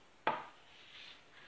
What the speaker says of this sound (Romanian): Și să tăiem așa o bucățică să vedem cum a ieșit.